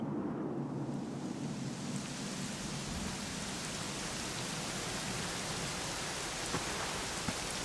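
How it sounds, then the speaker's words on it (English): Steady, dense rainfall in Dragon Quest XI hisses without a break, with a low rumbling undertone, as if thunder is far off; no one speaks. "it was raining like this"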